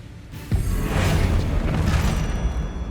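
A Bombarda spell blast goes off in Hogwarts Legacy: a single deep boom lands sharply, then a rumbling, crackling tail lingers for a couple of seconds without any talk.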